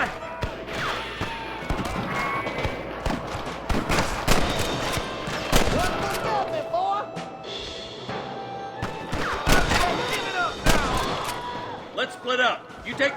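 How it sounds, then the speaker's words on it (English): Gunfire crackles through a Red Dead Redemption shootout against cattle rustlers, with repeated sharp shots and bursts scattered across the scene, near and loud, mixed with game voices shouting over the fighting. "Are you gonna shoot any of these rustlers, boy?"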